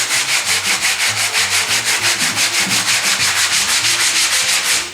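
Gelcoat on a fiberglass kit car body being sanded by hand, a steady rhythmic scratchy rubbing with fast back-and-forth strokes, close and continuous without pause or voices.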